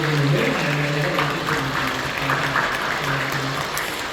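A church congregation applauds during a Sunday worship service, a steady wash of clapping from many hands that holds for several seconds, with faint voices and a low tone underneath.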